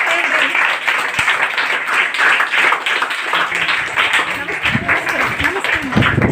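Classroom of schoolchildren clapping to thank a teacher after a hibiscus-juice acid and base experiment, a steady rapid clatter of many hands, loud and close, with a voice talking over it.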